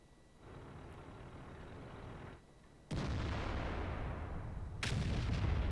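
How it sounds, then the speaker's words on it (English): A tank cannon shot in World of Tanks, a Jagdpanzer E100 firing on a T54: a rumbling engine bed gives way at about three seconds to a loud, sharp blast with a long rolling tail, then a second bright crack near the end. "Jagdpanzer E100 snaps a shot into the T54 and takes him out, doing 733 damage."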